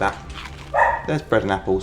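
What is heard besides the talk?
dog barking in Dishonored 2 video game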